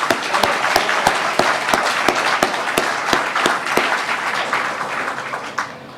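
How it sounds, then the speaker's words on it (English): Audience applause at a lecture event, a dense burst of many hands clapping at close range that fades toward the end, with no voices heard. "Another round of applause."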